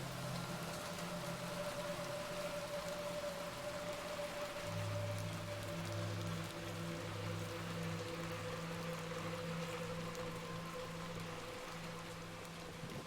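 Rain falls steadily in the video game Little Nightmares II, a constant even patter over low droning ambient tones, with no voices.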